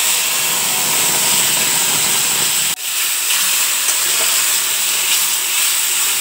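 A spice paste of ginger, green chili, cumin and coriander with a little turmeric sizzles steadily in a pan, a loud, continuous frying hiss with a brief dip partway through.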